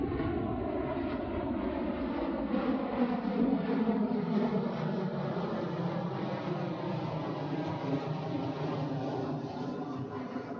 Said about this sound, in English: Oh, here comes the plane.